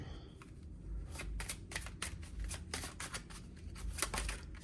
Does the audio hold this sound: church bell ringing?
no